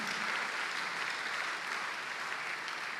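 A church congregation claps in a steady, even wash of applause, heard at moderate distance and fairly soft, tapering slightly toward the end.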